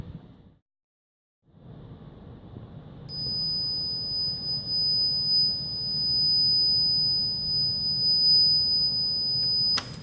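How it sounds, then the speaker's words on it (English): An over-temperature alarm on an Arduino temperature monitor sounds a steady, piercing electronic tone that starts partway through and holds continuously over a low, fan-like hum until the end. "So that's an example of the alarm condition."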